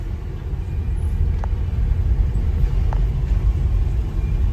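Steady low street-traffic rumble through an open car window, with engines and tyres droning constantly and a couple of faint brief higher sounds breaking through the dense, chaotic road noise.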